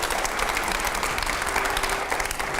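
Audience applause at a public event, a steady, dense burst of clapping from a crowd, continuous throughout and fairly loud.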